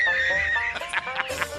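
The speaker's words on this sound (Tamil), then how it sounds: "என்ன குதிரை சனிக்குது கணிக்குது" A horse neighs in a loud, close whinny with a wavering, descending pitch, followed by snorting, breathy bursts; a sound effect heard alone.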